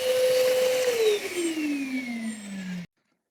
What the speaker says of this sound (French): J'ai sorti l'aspirateur de chantier là, c'est l'aspirateur de compétition comme ça